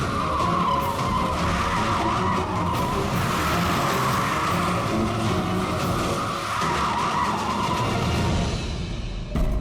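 A car with a rear-tyre problem skids and screeches, a loud, sustained tyre squeal over engine noise that runs nearly unbroken and fades out at the end.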